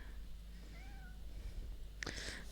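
A cat meows in the Powerwash Simulator 2 video game, two soft rising-and-falling mews followed by a louder, sharper meow near the end, heard alone over a quiet background.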